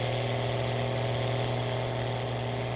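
Close and loud, the engine of a tractor pulling a planter in Farming Simulator 19 holds a steady, heavy drone with a whirring overtone, uninterrupted and with no talking.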